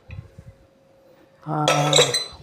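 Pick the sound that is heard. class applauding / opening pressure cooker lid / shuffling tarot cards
opening pressure cooker lid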